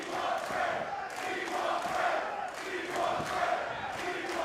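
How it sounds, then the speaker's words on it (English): A wrestling crowd at a Fred Rosser match rallies behind him, a fairly faint wash of cheering and shouting with swelling waves of voices. "Crowd rallying behind Fred Rosser here"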